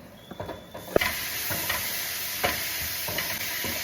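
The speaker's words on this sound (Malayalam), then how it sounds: "ഒന്ന് സോട്ട് ആയി വരുമ്പോൾ നമുക്ക് നമ്മുടെ ടൊമാറ്റോസ് there goes in" Tomatoes go into a hot pan of sizzling spices with turmeric, chili powder and garam masala, followed by a loud hiss and repeated scraping stirs close by; no talking.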